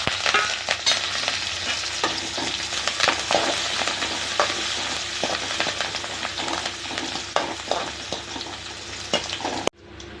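Dried red chillies, small shallots and curry leaves fry in hot oil for a Kongu-style mutton curry, giving a dense, continuous sizzle with frequent sharp crackles and spatter pops, close and loud, ending abruptly.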